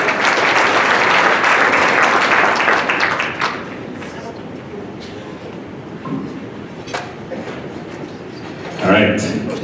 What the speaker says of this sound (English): Can we have a round of applause once again?